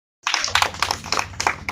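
Crowd clapping starts after a brief silence and continues in an uneven but steady patter of hand claps, close and moderately loud, with no talk over it.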